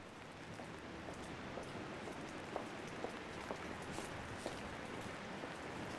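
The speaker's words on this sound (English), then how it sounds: "It's raining on Wooster Street in Soho in New York on this November day." Steady rain falls on Wooster Street in Soho, New York, on a November day, a dense continuous hiss with occasional louder drips and taps, no voices.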